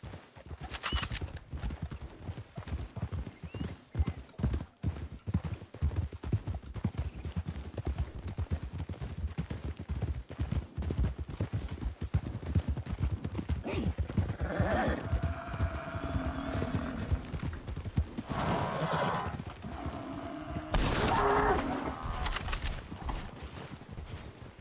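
Horse hooves clip-clopping steadily in a Western video game roleplay, with a horse whinnying in several bursts toward the end, over a busy game background and occasional voices.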